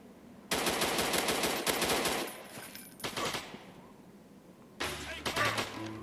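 Gunfire in the mobile war game Desert Wars: rapid automatic bursts rattle in several loud volleys separated by short pauses, with a distant crackle between them.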